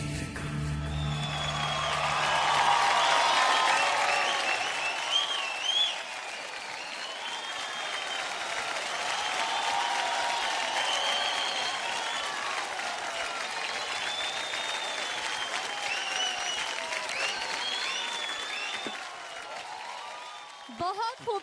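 A large studio audience at a televised dance competition applauds a dance performance, a dense sustained wave of clapping with scattered cheers, loud at first and slowly tapering, with a voice speaking over it.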